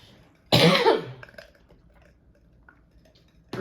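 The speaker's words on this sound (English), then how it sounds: "I always cough a lot in the morning." A single loud, harsh morning cough bursts out close by and fades into quiet breathing and faint rustling, with a second cough beginning at the very end.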